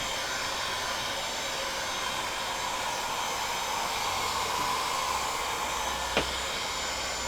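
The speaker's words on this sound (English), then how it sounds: "this hot air gun is on minimum setting and has minimum heat" A hot air gun runs on its lowest heat setting, giving a steady, even blowing hiss that holds for the whole stretch, with one brief click near the end.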